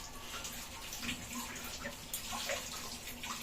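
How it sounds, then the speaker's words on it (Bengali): Crab pieces rinsed under a running tap, a soft steady stream of water with small splashes and clinks, faint and close. "ময়লা, এগুলাকে ধুয়ে ফেলতে হবে।"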